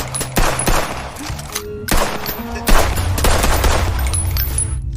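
Gunfire rings out during shooting practice in a film, with several sharp, loud shots and bursts arriving irregularly over a rumbling, dense background.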